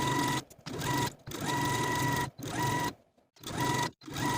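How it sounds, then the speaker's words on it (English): Sewing machine stitching close along the serged hem of a dress lining, with several bursts of steady whirring and short pauses between them, near and clear. "Take it to your machine and stitch once again close to your serging."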